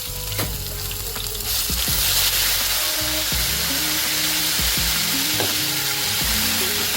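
Ginger garlic paste hits hot oil already tempered with cumin and asafoetida, giving a loud, dense, continuous sizzle up close, with occasional scraping clicks of stirring.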